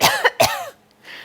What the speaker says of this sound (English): now I'm going to go ahead and cough and see what happens to this plate